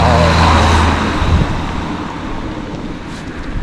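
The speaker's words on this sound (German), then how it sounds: "Jetzt kommt der Auto, jetzt wird's laut." A car passes loudly on a road in Madeira. A strong rush of engine and tire noise at the start thins into a fading roar, with wind buffeting the microphone throughout.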